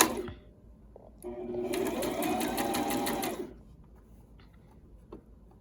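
A sewing machine stitches down and around the pockets of an A-line overgarment, a steady close whirring run of about two seconds between softer handling noises and quiet pauses.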